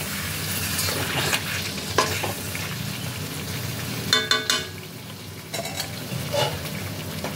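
Chicken for chicken do pyaza frying in a kadai as it is stirred, a steady close sizzle broken by scraping and clinks of the spoon against the pan, no voices.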